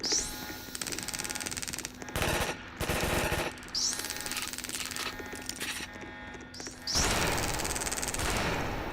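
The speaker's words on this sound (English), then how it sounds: "Gunshots ring out from the outside" Rapid bursts of gunfire ring out in repeated volleys, loud automatic-style fusillades broken by short gaps, heard as outdoor shooting in what seems to be a game setting.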